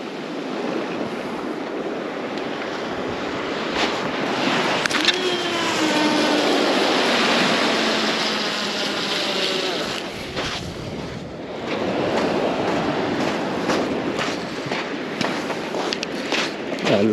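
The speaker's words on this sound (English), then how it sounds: "just the tide's coming in over it" Incoming tide washing over a UK fishing beach, broad surf wash steady and fairly loud with buffeting wind across the whole stretch, and a faint passing drone in the background.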